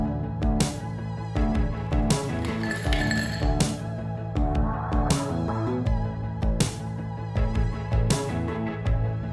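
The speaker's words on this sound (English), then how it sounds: "Few ice cubes." Ice cubes dropping into an old-fashioned glass, a series of bright, sharp clinks and rattles spaced irregularly across the span, close and clear with no talking.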